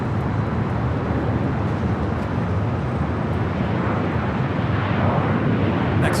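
Airliner taxiing at LAX in Los Angeles, a steady broadband jet engine rumble and roar that holds constant and fairly loud throughout with no talk.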